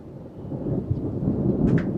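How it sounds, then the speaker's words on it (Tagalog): A thunderstorm rolls over Tondo, with steady rain and a low continuous rumble of thunder. A brief brighter crackle comes near the end, and nobody speaks. "ayan na yung bagyo."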